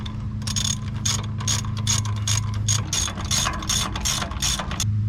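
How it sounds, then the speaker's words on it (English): Ratchet clicking in steady repeated bursts while bolts are run back in on the brake caliper of a 2006 Chevy Silverado, close and fairly loud, with no talk. "And now you can put these bolts back in."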